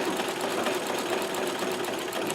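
A Singer 237 sewing machine runs steadily at speed, a dense, continuous mechanical whirr with a rapid rhythmic chatter, close up and alone with no talk.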